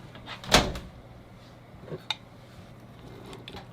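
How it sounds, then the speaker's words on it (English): A microwave door is opened and closed in a home kitchen: a loud single clunk, followed about 1.5 seconds later by a fainter click, with no talking. "I'm just gonna microwave this for like 30 seconds."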